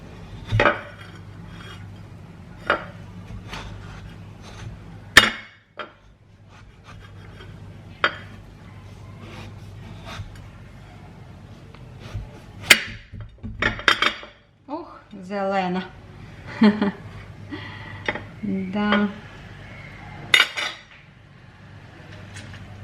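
A knife cuts through a melon, giving a series of short scraping and rubbing strokes with a few clinks against a dish, irregularly spaced over a steady low hum, with no talk.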